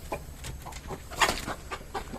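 Chickens on a farm cluck in short, scattered calls nearby, softly overlapping with a bit of background noise.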